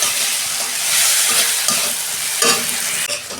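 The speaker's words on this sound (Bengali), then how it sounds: "আমি আদা রসুনের পেস্ট দিচ্ছি" Ginger garlic paste fries in a pan with browned onions, a steady loud sizzle running throughout while a utensil scrapes and stirs in several distinct strokes; no one speaks.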